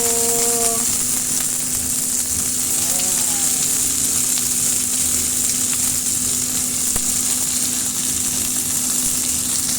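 Tomato added to garlic in a hot pan for pinakbet, giving a steady loud sizzle and hiss of frying that carries on throughout, with a brief stir near the start.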